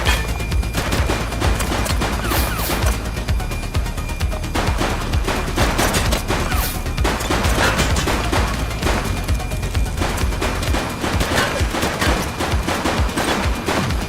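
Dense, loud gunfire from a police shootout in the video game The Precinct, with rapid bursts and repeated shots running continuously throughout with no pauses.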